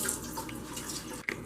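Fresh parsley rinsed under a running kitchen tap, a steady close stream of water splashing into a sink with a brief dip and a small splash near the end.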